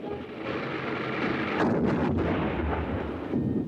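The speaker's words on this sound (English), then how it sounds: "Now watch the explosion in the sand dunes." An artillery shell bursting among sand dunes during ranging tests, heard as a loud, sustained rumbling blast that swells midway and rolls on with no voices over it.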